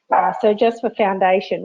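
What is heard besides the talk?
dog barking in the background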